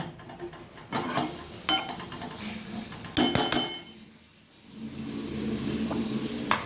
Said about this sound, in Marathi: आता त्याच्यावर आता आपण झाकण ठेवूया